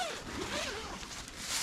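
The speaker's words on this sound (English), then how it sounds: "And then here we have double zippers, if I can find them." The zipper on a fabric panel of a TideWe see-through ground blind is pulled, a short close rasping zip lasting under two seconds, faint and alone.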